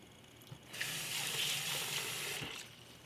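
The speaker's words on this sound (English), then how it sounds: "So run some water over the seeds." Tap water runs from a kitchen faucet over pumpkin seeds, a steady broad gushing hiss that starts abruptly after a brief moment and holds close and even before easing off near the end.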